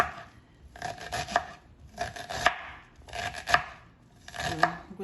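A knife chops an onion into small pieces on a cutting board, in four quick bursts of crisp, close blade strikes separated by short pauses, with no talking.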